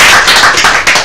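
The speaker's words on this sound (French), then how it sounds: "merci de l'applaudir une fois encore" An audience breaks into brief, dense applause, many hands clapping close and loud in a short continuous burst.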